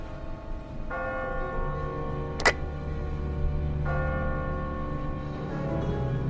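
A church bell tolls in a bell tower, two slow, ringing strikes several seconds apart, each leaving a long humming decay over a low background rumble, with a sharp click between them.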